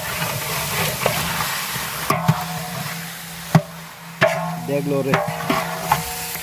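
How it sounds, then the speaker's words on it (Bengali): A spice paste is sautéed in a pot for a picnic rice and meat dish, a steady frying hiss broken by several loud spoon knocks and scrapes, with a brief voice and background chatter. "এই যে সুন্দর করে কষাই নিচ্ছি আগে মশলাটা"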